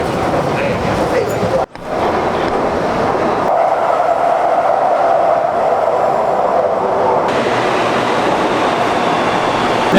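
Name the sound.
Shanghai metro train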